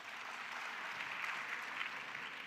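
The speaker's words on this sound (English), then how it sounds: "A round of applause." An audience at a university postgraduate research event applauds steadily, a dense even clatter of many hands clapping at moderate distance with no talk over it.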